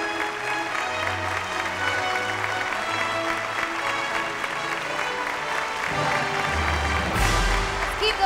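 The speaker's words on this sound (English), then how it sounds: "Keep the applause coming, ladies and gentlemen" Applause at the Miss Sri Lanka Earth 2018 grand finale, steady crowd clapping under loud music and a sustained background, continuous throughout, with louder low tones near the end.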